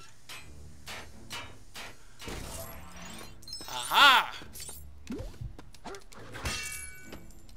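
Hammer blows smash objects in the Lego Pirates of the Caribbean video game, with several sharp impacts and one loud shattering crash near the middle, amid game sounds and a brief spoken exclamation.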